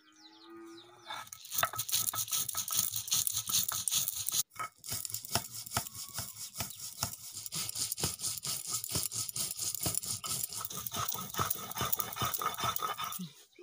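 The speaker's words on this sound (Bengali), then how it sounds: "জিরে রবি না কাঁচা লঙ্কা ধনে একসঙ্গে বেটে নিচ্ছি।" Rhythmic, rapid scraping and grinding strokes ring out as cumin, green chilli and coriander are crushed together on a village grinding stone, a close, continuous rasping pulse with one brief pause.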